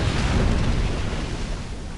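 A cannon fires in a strategy video game, producing a dense, heavy boom with a rumbling low end that fills the whole short moment and fades slightly at the end.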